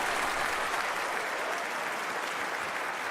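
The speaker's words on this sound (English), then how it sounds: "The crowd go wild and they respond." Applause from a stadium crowd in a London 2012 Olympic video game, a dense continuous clapping wash after a tennis rally, steady and loud throughout.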